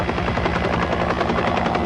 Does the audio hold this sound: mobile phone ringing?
no